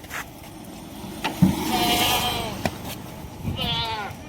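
Kathiawari goats bleating at a livestock sale, with two drawn-out, wavering bleats close by, one near the middle and one at the end, over low background noise and a few knocks.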